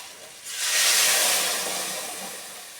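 Hot water poured into fried spice paste for a fish curry with eggplant, a sudden loud hissing burst of steam that swells, then slowly fades into a softer sizzle, close by.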